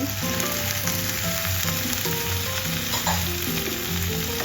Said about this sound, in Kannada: ಒಳ್ಳೆ ಮಾಡಿ ಮಿಕ್ಸ್ ಮಾಡಿ. ಈಗ ಟೊಮೆಟೊವನ್ನು ಹಾಕಿ